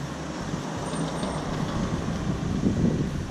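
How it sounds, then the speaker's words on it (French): A car passes along a road outdoors, its steady, low rumble of engine and tire noise filling the scene at a constant level and swelling a little near the end. "il y a une voiture qui va faire un peu de bruit"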